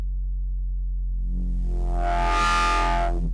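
Distorted synth bass built from a high FM layer, a sub and noise, with its filter sweeping open so the tone grows brighter and harsher before closing again; a single sustained note, loud and alone.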